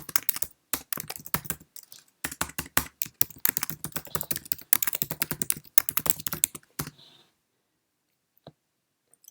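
Fast typing on a Mac desktop computer keyboard, a dense run of close, crisp key clicks in quick bursts with brief pauses, stopping abruptly before a short silence at the end.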